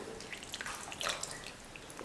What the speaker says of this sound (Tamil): குழம்புக்கு தேவையான அளவுக்கு தண்ணி சேர்த்துக்கிறேன்.